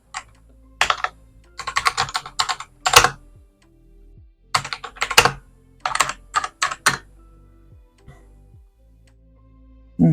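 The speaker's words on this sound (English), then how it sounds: "Let's just type it in." Typing on a computer keyboard at a desk, in bursts of rapid clicking keystrokes separated by short pauses, fairly close and alone without talk.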